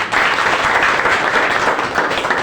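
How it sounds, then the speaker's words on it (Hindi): Loud, steady audience applause fills the room from start to finish, dense clapping from many hands at a live event with no breaks. "जोरदार ताली होनी चाहिए, जोरदार।"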